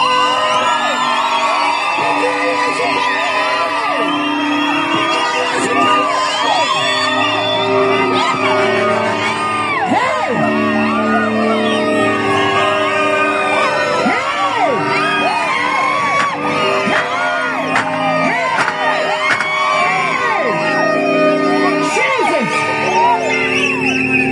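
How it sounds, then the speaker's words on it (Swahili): A street worship crowd shouts and whoops joyfully, many voices yelling and cheering loudly and continuously for the whole stretch. "Pigia Bwana Yesu kelele"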